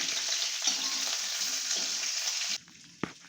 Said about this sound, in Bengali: একটু হাই ফ্লেমে ভাজবেন, তাহলে কি হবে বেশি এঁচোড়েতে তেল টানবে না, এঁচোড়টাও ভালোভাবে ভাজা হয়ে যাবে